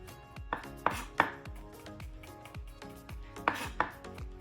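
A knife minces shallots on a cutting board for a Vietnamese beef and pork dish in piper lolot leaves, giving a steady run of close, crisp chops with sharper clacks every half second or so.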